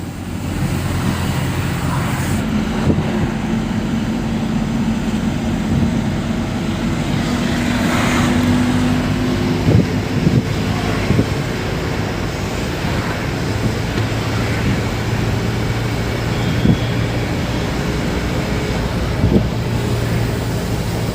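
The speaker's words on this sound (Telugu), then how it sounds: "ఇప్పుడు ఎక్సలేటర్ వదిలేసాను, అది ఇప్పుడు వస్తుంది చూడండి, బుస్ సౌండ్ కూడా" A truck engine drones loudly and steadily while its exhaust brake gives a broad rushing hiss after the accelerator is released, with continuous cab noise throughout and no talking.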